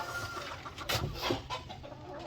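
Chickens cluck softly inside a coop beside a newly built nesting box, a few brief clucks rising over a low, steady background at close range.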